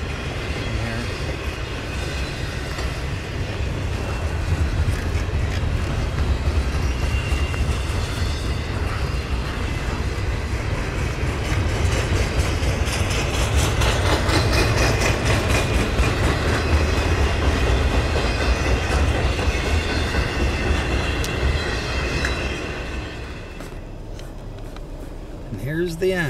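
A long freight train rumbles past in snow with steady clickety-clack of wheels, loud and close, fading near the end; a voice speaks faintly under the noise.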